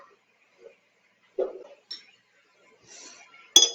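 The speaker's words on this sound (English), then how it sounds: "So we'll make sure to gently stir with our clean rod." A clean glass rod clinks against a glass vessel while stirring during a DNA extraction lab. A few soft, scattered taps are followed by one sharp, bright clink near the end, in an otherwise quiet room.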